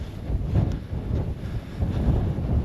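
Wind buffets the microphone on a high mountain trail through Kaupō Gap in Haleakalā National Park, a steady low rumbling roar with gusty swells and no talk.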